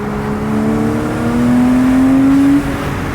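Close, loud engine note from a stock Porsche 987.2 Base Boxster being driven, rising steadily in pitch as it revs out, then dropping off sharply near the end as the revs fall.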